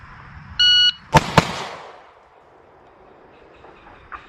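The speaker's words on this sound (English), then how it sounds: "2 headshots, double tap." A Taurus G3 pistol fires a quick double tap at a range, two sharp loud cracks close together following a brief electronic timer beep, then a fading echo and quiet.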